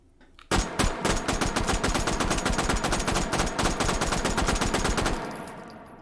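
A Bergmann No 5 machine gun in the VR game H3VR fires a sustained rapid automatic burst of sharp, loud, evenly spaced shots for about four and a half seconds, then stops and the sound rings off.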